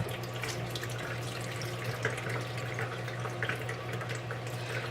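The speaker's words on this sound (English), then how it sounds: "I'm just draining the tomatoes away from the sauce." Canned tomatoes drained of their sauce, a steady trickling and splashing of liquid with a faint hum beneath it, close by and continuous throughout.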